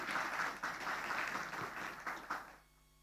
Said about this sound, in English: Can we have a big round of applause to start this lovely occasion?